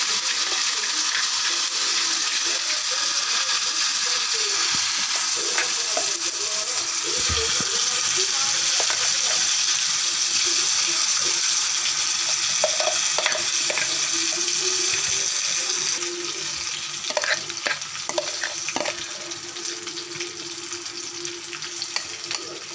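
Puli keerai (sorrel leaves) going into hot oil already crackling with mustard seeds, urad dal and cumin: a steady close sizzle and hiss with scattered stirring clicks, a brief thump, no talk.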